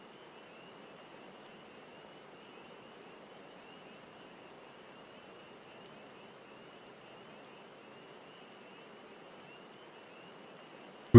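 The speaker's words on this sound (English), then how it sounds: "Can we not stand around in the rain?" Steady, soft rainfall hisses evenly in Final Fantasy XIV, a faint continuous patter with a thin high tone above it and no voices over it.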